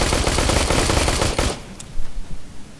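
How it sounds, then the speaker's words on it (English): Rapid automatic gunfire from the Aliens: Colonial Marines multiplayer shooter game, a dense loud continuous burst for about a second and a half, then cutting off to a few scattered quieter shots and noises. "That's as fast as I can shoot."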